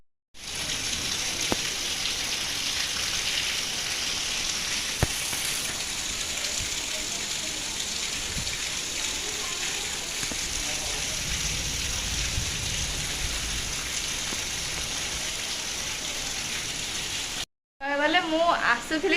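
Heavy rain pours down outside a house as a dense, steady roar that lasts most of the clip. It cuts off near the end, and a different sound briefly follows.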